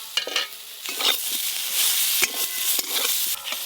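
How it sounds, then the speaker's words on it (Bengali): Steady oil sizzle with frying crackle of pointed gourds, broken by a few scraping stirs against the pan; no talking. "পটলগুলো বেশ ভালো করে ভাজা ভাজা হয়ে গেছে"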